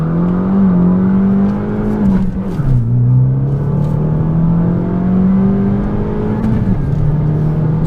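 An Abarth 500 accelerates hard up a mountain road, its engine note climbing loud and close, dropping briefly at a gear change, then rising again.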